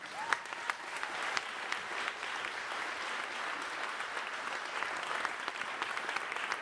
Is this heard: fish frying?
no